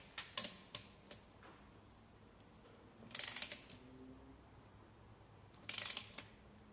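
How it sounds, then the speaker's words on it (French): A torque wrench tightens the camshaft on a turbocharged VW VR6 engine with a new cylinder head and new lifters: a few isolated clicks, then two short, rapid ratcheting bursts, close and quiet. "on peut mettre l'arbre à cam et serrer l'arbre à cam au couple."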